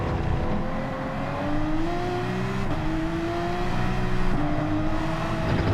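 A Porsche 911 RS in Gran Turismo 7 driven hard through corners, its engine note climbing and dropping across gear changes, loud and continuous with no talk.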